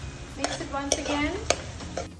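A utensil scrapes and stirs Kung Pao chicken in a hot pan, sounding as a few rhythmic metallic strokes over a steady sizzle, close and alone.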